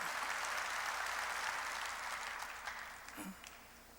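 A church congregation claps steadily at a sermon's prompt, a soft, distant wash of applause that fades slightly toward the end.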